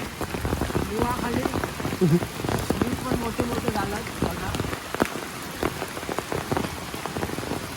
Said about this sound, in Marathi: आमच्या ग्राउंड पाऊस भरपूर आहे गावी